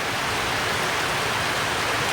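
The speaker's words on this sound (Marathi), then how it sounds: "पहिलाच पाऊस आहे थंड आहे पाणी" The first monsoon rain falling at a village in Ratnagiri, a steady, dense hiss of downpour close at hand with no other sounds.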